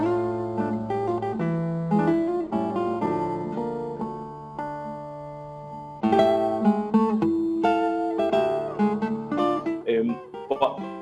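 A classical guitar played unamplified in a room, quiet fingerpicked melody with ringing chords, natural room tone, solo and without talk.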